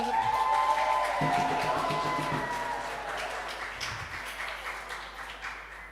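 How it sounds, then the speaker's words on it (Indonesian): An audience at a youth church gathering in Jepara claps together, loud at first and then slowly thinning and fading over several seconds, with a faint tonal hum underneath. "Tepuk tangan."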